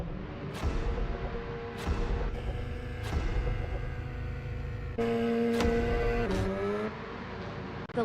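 Sim racing race cars, Golf and Polo entries, surge away at the race start, several engines revving and rising in pitch together with sharp gear-shift changes, loud and steady over eight seconds.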